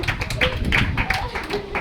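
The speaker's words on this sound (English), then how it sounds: "This is the winner of this. Clap to her." Children clap for the winner of a game, a short patter of uneven hand claps from a small group, close and steady, with voices chattering over it.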